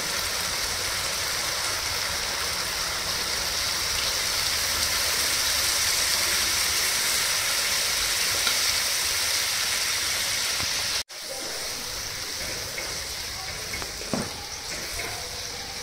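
Water poured into hot oil in a pan while cooking Bengali doi katla, a steady loud sizzle and bubbling roar that cuts briefly near the end, then continues slightly quieter with small pops.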